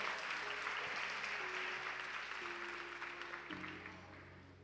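A church congregation claps steadily and loudly throughout, a dense wash of applause with a sustained musical tone underneath.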